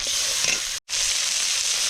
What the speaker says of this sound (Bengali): চিংড়ি সব ভাজা গেছে আর তুলে নেব